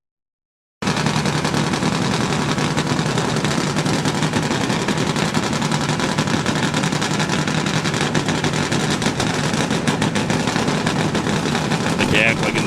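A pair of 750-horsepower nitro-burning drag racing motorcycles thunder down the strip side by side at a drag race, a loud, sustained, crackling engine roar filling the whole stretch after a brief silent start.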